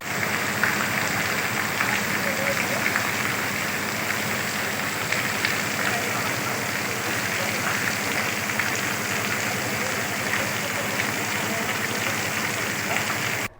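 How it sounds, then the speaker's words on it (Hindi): Steady unseasonal rain pouring onto a flooded town road in Bhatia, Gujarat, a dense continuous hiss that stays loud and even throughout with no voices. "वहीं भाटिया शहर में सड़क पर बारिश से पानी भर गया।"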